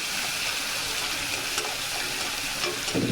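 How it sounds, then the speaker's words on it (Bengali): Radish sizzles steadily frying in hot fish oil, a dense, continuous crackle and hiss with occasional stirring scrapes, no voices. "ভাজা করে নেব"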